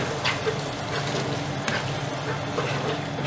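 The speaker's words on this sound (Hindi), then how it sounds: "अभी इसमें ये फ्रेश गार्लिक और जिंजर का पेस्ट है, ये डाल लेंगे।" Fresh garlic and ginger paste fries in oil for a chickpea curry: a continuous sizzle with wet bubbling and a few sharper stirring scrapes, heard close and on its own.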